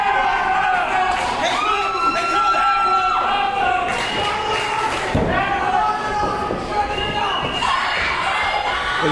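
Loud wrestling crowd cheering and shouting continuously at a ring match with Colin Bly, with commentators talking over the steady roar.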